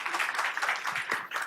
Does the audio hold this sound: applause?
yes